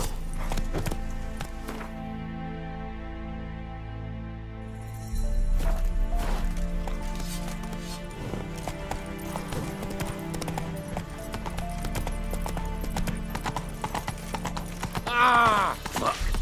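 Hooves of Roach, the horse in The Witcher 3 Wild Hunt, clip-clopping at a steady running gait under game music, with a brief whinny-like rise near the end.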